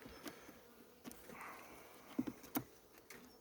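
Honeybees hum softly in an overwintered nucleus hive in February, a faint steady buzz broken by a few light taps and clicks close by.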